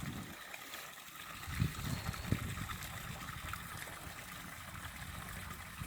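Water trickles and gurgles steadily as it is let into a garden pond, a soft continuous flow with a couple of brief louder splashes early on, fairly quiet and with no talking.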